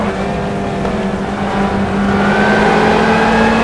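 Dodge Viper race car engine in the GTR2 racing game: a loud, steady engine drone close by that swells slightly as it continues, with no talk.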